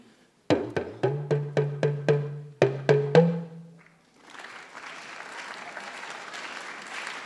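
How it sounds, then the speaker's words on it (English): At a kindness celebration program, nine sharp, evenly spaced drum-like hits with a short pause are followed by a softer, steady wash of audience clapping. "Just simple clap."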